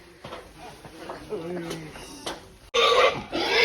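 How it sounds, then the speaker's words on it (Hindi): An aggressive pig at a Mishmi wedding gives a sudden loud squeal near the end, preceded by grunting and people talking nearby. "सुअर बेकाबू हो गया"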